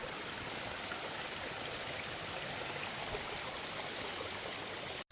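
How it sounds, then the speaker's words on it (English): A small waterfall in a forest stream pours steadily in a mossy hemlock valley, a broad continuous rush heard close and alone for about five seconds before it cuts off abruptly. "This is miniature waterfall number 6. There it goes, doing its waterfall-y thing."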